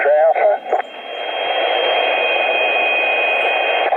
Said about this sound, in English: Oh, I can hear the FT8 now.